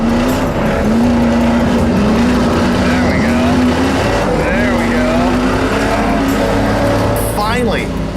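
Stock car engine howls loud and close on a dirt track as the car slides tail out, its pitch wavering with throttle, while someone talks over the continuous roar.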